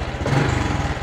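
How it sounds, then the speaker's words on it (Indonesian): A fuel-injected Honda Blade motorcycle engine runs in a brief burst, a close, steady low rumble. "Untuk mesin hidup ya teman-teman"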